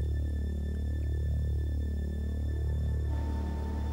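A power station generator, linked by a shaft to a turbine and turning at 3,000 revolutions a minute, gives a steady, loud electrical hum with a slow rising and falling throb.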